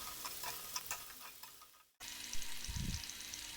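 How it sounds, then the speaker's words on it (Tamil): Cut pieces of semolina snack deep fry in oil over medium flame, a fizzing, bubbling sizzle with light ticks that cuts off sharply partway, followed by a softer sizzle and a low thud. "கட் பண்ணி வச்சுருக்கிறத எண்ணெயில் போட்டு ஃப்ரை பண்ணி எடுத்துடலாம்"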